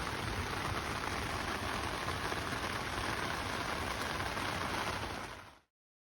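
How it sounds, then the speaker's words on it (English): Steady rain falls at night on a Big Agnes tent, a dense, even patter of drops on fabric that holds constant and close for several seconds before the sound ends abruptly. "Another rainy night, but we're all dry in the Big Agnes tent."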